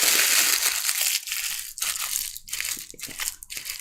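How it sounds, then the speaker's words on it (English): Loud, continuous crinkling and crunching of stiff parchment paper being crumpled, with sharp crackles and brief pauses, close to the microphone. "you crumple it up first of all"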